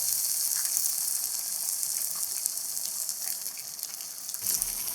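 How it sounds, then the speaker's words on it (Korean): Beaten egg poured over enoki mushrooms seasoned with salt and pepper sizzles in a hot pan, giving a continuous, close hiss with a brief louder spurt near the end and no voices. "팽이버섯이 숨이 죽고 익으면 계란물을 전체적으로 뿌려주고"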